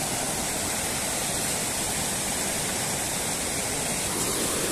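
Water rushes loudly and steadily at Saif ul Malook lake, a dense, close, broadband roar like a waterfall or fast stream that continues unbroken, with no voices.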